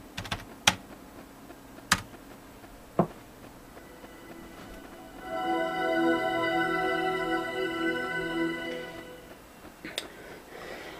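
Someone types a password on a computer keyboard running Linux: a few isolated key taps, then a short burst of quick clicking keystrokes, ending with one more tap, close and fairly quiet.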